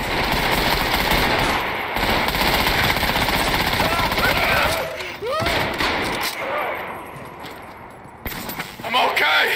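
Enemy gunfire in Trepang 2 rattles almost without a break, loud and close, with sustained automatic bursts, a brief lull, then renewed shots, under a player's excited talk.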